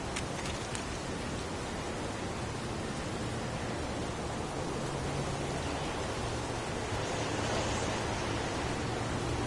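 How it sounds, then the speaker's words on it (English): Heavy rain pours in the game Heavy Rain, a dense, even hiss of rainfall that fills the scene continuously at a loud level with no voices over it. "It's pouring rain."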